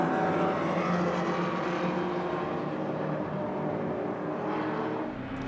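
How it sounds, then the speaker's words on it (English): Production and GT race cars up to 5 litres, an American car and a Ferrari, roar uphill side by side at Sonoma, a loud sustained engine drone that fades slightly toward the end. "Look at this side-by-side racing between the American car and the Ferrari as they cross the line together, side-by-side, up the hill"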